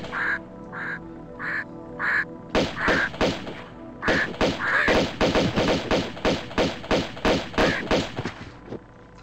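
Crows attacking in Tomb Raider 2: repeated squawking calls at first, then a dense run of rapid gunfire bursts and thuds mixed with caws, loud and close, continuing steadily to the end.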